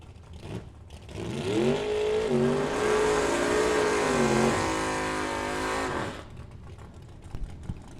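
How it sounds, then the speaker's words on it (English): At a bracket drag race, a 1970 Dodge Dart and a Nova launch in the no-box category with a loud engine roar whose pitch climbs and holds for several seconds before cutting off abruptly. "Troy Bulkey, 70 Dodge Dart, up against Dean Cummins, the Nova."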